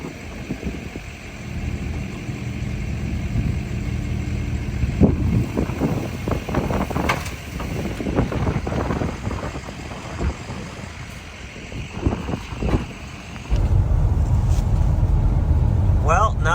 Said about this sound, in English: now we're driving down the roughest part of the track here